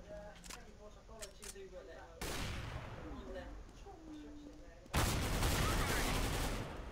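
AK rifle fire in Counter-Strike: Global Offensive: sudden bursts of loud automatic gunfire, a first volley partway through and a heavier, louder one near the end, with players chatting over game sounds before and between the shots.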